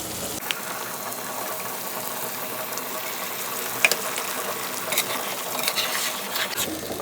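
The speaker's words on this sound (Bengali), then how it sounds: "মিশ্রণটাকে ভালো করে মিশিয়ে নিব, নাড়াচাড়া দিয়ে নিব" A spoon scraping and stirring through a spiced fish curry mixture with milk in a pan, the soft scraping steady beneath a faint sizzle, with a few light knocks near the end.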